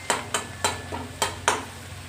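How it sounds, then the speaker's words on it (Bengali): Spices with turmeric and chili powder being stirred and fried in a pan, five distinct scraping strokes spaced in an irregular rhythm over a low steady sizzle, close and clear with no talking. "আর দেব লঙ্কার গুঁড়ো দিয়ে ভালো করে মিক্স করে কষিয়ে নিচ্ছি"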